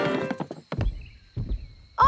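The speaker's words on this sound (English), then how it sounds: "I can hear footsteps." Cartoon footsteps approach in a children's animated kingdom scene: a few soft clip-clop thuds in short bursts, fairly close, with a brief musical swell at the end.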